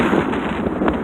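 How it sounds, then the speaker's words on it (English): Wind buffeting the microphone outdoors during tornado weather in Edmonton, a steady, loud, roaring rush with brief gusts and no talk. "It's getting windy here."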